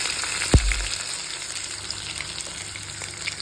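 Chopped onions and curry leaves hit hot oil in a pan for Tomato kuruma, a sharp splash and clatter near the start, then a steady, even sizzle of frying that goes on with no speech.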